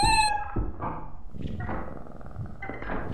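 A cat meows in the video game Lethal Company, several short high-pitched mewing calls close by, separated by soft thuds and brief pauses.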